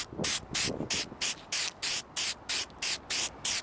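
Short bursts of aerosol spray, about a dozen in a quick even rhythm, misting a light first coat of clear coat onto a car headlight outdoors, loud and close with no talking.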